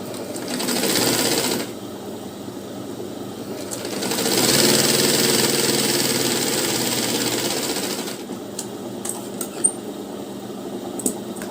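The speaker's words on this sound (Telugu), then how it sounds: "ఇలా మళ్ళీ పైన ఒక కుట్టు వేసుకుంటే" Sewing machine stitching a blouse lining, its motor running in steady bursts of rapid needle chatter with short pauses between runs and a few light clicks near the end, no talk.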